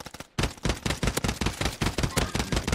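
Rapid gunfire in a shooter video game, a loud close burst of repeated rhythmic shots after a few softer pops, continuing steadily with no talking.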